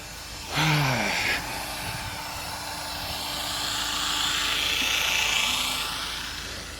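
A drill-driven water pump drains a concrete pond outdoors, a steady whirring drone that surges and dips unevenly as it runs jerkily, with a brief high whine near the start and hissing background throughout.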